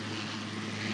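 Armed Forces helicopter bringing relief supplies to a flood-isolated rural community in Ecuador, heard as a steady, loud rotor and engine drone with a low hum, continuous and unbroken throughout.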